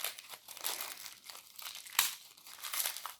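Thin cardboard and plastic advent calendar packaging holding Aurifil thread is torn and crumpled open by hand. The crinkling rustles in quick bursts with one sharp tear partway through, and the sound is close and fairly quiet with no talking.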